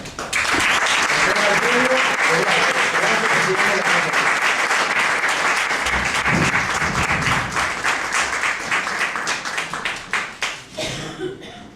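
An audience at a short-story contest award ceremony applauds a winner, full and steady clapping for about ten seconds that thins into scattered individual claps before stopping.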